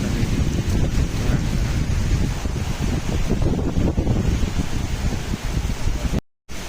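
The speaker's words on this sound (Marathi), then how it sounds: "पावसाला सुरुवात झालेली आहे आणि सगळा पाऊस आमच्या मध्ये येऊन पडत आहे खूप जोरा पाऊस येत आहे" A dense, steady roar of heavy afternoon rain in a forest, with gusty wind buffeting the microphone, continuous throughout before cutting off abruptly near the end.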